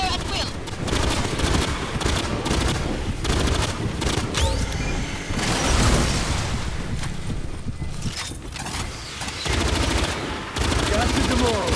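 Sustained heavy gunfire in the video game Aliens Fireteam Elite 2, dense rapid automatic bursts and booms filling the whole stretch loudly, with shouted voices mixed in.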